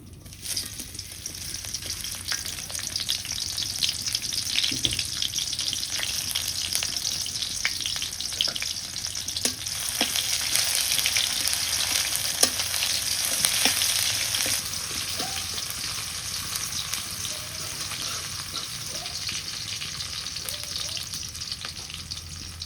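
Onions sizzling steadily in a pan for potato bhaji on a village cooking fire, a continuous close frying hiss with occasional light stirring scrapes, no voices.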